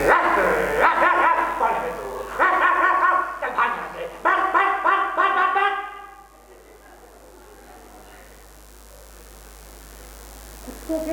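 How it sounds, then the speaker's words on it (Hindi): A dog barks in a quick series of loud, close yaps for several seconds, then falls silent, leaving only quiet background hiss. "मालिक से पहले कुत्ता भौंक भौंक कर आपका स्वागत करता है"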